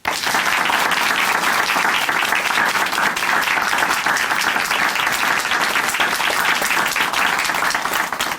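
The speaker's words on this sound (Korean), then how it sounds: "다시 한번 박수 부탁드립니다" Studio audience on a Korean Christian TV show gives sustained applause, loud, dense and even for over eight seconds with no talk over it.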